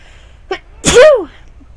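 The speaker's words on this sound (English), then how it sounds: "I really had to sneeze." One loud, close human sneeze, a short sharp inhale followed by a forceful burst, alone with no talk.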